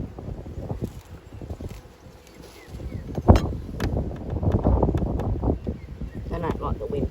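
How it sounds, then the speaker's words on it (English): Wind gusts outdoors during an inspection of a top bar beehive, a steady low rumbling buffet across the microphone that swells and eases and grows heavier toward the end. "And it's windy."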